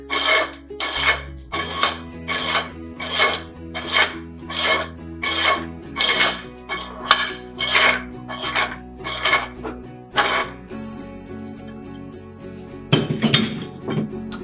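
A metal threaded sub is screwed onto a dual firing head housing with a run of about fifteen evenly spaced metallic scrapes and clinks, each turn rasping close up, before it eases into quieter ringing and one final scrape.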